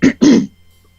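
Two quick, close throaty coughs in succession, the second a bit longer, then silence.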